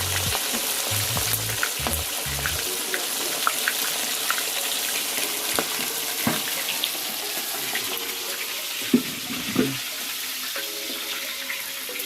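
Fish fries in oil in a tilted pot, giving a steady broadband sizzle and crackle throughout, with a few louder pops and bubbling bursts close by and no talking.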